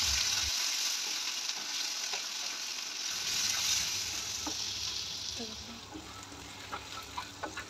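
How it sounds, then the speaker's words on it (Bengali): Chopped onions fry in oil with sugar, cardamom and cloves, making a continuous, fairly quiet sizzle with scattered small pops and light stirring scrapes toward the end. "পেঁয়াজগুলো দিয়ে দেওয়ার পরে কিছুক্ষণ এটাকে ভাজতে হবে।"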